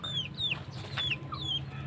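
Chickens cluck and squawk in short, rising-falling calls, several overlapping at close range over a low steady background hum.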